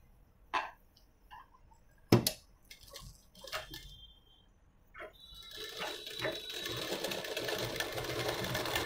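A sewing machine stitches a puff sleeve, starting with a few short, sharp clicks and bursts, then running in a steady close whirr for the last few seconds.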